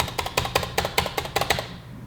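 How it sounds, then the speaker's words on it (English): Keystrokes on the Vastking Kingbook K100 laptop keyboard: a rapid, uneven run of close, crisp clicks and taps that trails off near the end. "The sound of the keystrokes underlines that."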